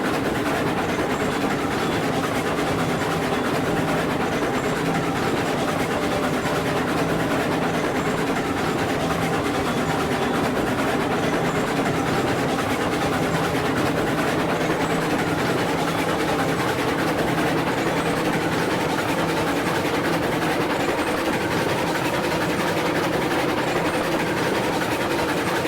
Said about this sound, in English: I hear it chuffing down.